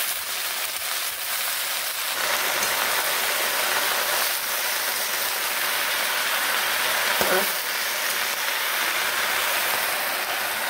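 Jute leaves hitting hot oil in a kadai with green chilli and nigella seeds, giving a loud, steady broadband sizzle and hiss that runs close and unbroken throughout.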